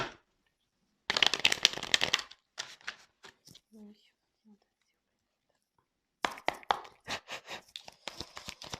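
Tarot cards are shuffled in close bursts of crisp riffling and sliding, separated by quiet pauses, with soft speech between shuffles.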